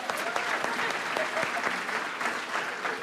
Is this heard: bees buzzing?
no